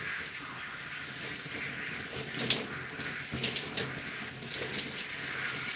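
Warm water runs steadily from a tap while gray natural hair is soaked for a wash and go, a continuous hiss broken by splashes and drips that pick up midway.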